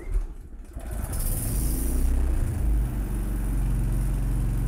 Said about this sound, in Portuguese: uma vez ligada, puxando a corda, como é simples ligar o motor